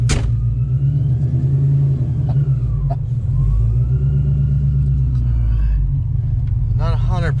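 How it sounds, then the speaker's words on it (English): Whipple supercharged Coyote V8 in a foxbody Mustang driving, a loud, steady engine rumble with a faint blower whine throughout, heard from inside the car. "that blower sounds good"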